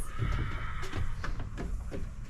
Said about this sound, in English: You can hear the horses in the background.